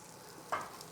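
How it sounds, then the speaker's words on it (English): Asparagus sautéing in a pan on a ZLINE range, with a soft continuous sizzle and one short louder scrape or clink midway, close and fairly quiet with no voices. "Okay, I get that asparagus sauteing up."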